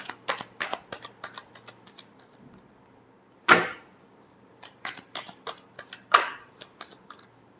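Tarot cards shuffled by hand, a series of quick crisp riffles and soft taps close up, with two louder longer riffling bursts standing out among the lighter flicks.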